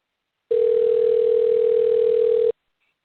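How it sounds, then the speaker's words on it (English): A steady telephone dial tone holds one unbroken pitch for about two seconds, loud and alone, then cuts off abruptly while a call is being dialed. "that's because I'm dialing now"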